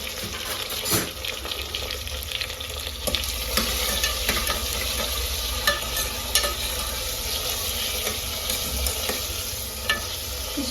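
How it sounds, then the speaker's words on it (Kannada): Tomato and chili frying in a pan for methi bath, a steady close sizzle with occasional stirring scrapes and pops throughout, no voices. "ಇದು ಚೆನ್ನಾಗಿ ಸ್ವಲ್ಪ ಫ್ರೈ ಆಗಲಿ."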